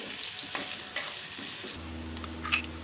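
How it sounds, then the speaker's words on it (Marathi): Onion fries in a pan until reddish-brown, a continuous sizzle broken by clinks and scrapes of a spoon stirring, and a steady low hum enters partway through. "कांदा चांगला लालसर होईपर्यंत भाजून घ्यायचा कांदा मी भाजून घेते"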